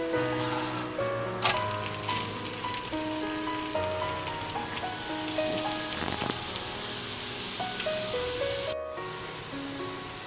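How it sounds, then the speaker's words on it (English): Rice flour roti sizzles steadily as it roasts on a hot oiled pan, a continuous close frying hiss with faint crackles running throughout. "Roast the roti on both the sides until they become light brown."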